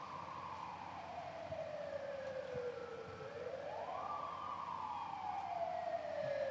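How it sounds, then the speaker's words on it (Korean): An emergency control vehicle's siren sounds at a Korean safety drill as the vehicle arrives on scene, its tone sweeping slowly down and back up, moderately loud over outdoor background noise. "지금 긴급구조단 통제단 차량이 사이렌을 울리며 현장에 도착을 하고 있습니다."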